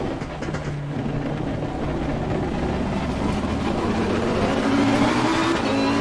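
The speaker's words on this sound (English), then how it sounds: "you can hear the traction control really cutting the power" Race car engine in the Assetto Corsa Competizione racing game, droning loud and steady at high revs while traction control cuts power, producing a stuttering, uneven note that climbs near the end.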